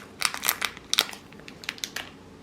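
A bag of caramel popcorn is cut open with scissors and poured out in a quick series of crinkling plastic rustles, snips and light rattles, close and moderately loud with no talking.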